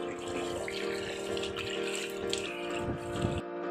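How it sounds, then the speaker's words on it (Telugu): Running water splashes steadily while a face is washed, close and fairly quiet, with uneven splashing bursts from hands moving under the flow. "ఫ్రెండ్స్ ఇలా ఫేస్ వాష్ చేసుకుంటున్నా."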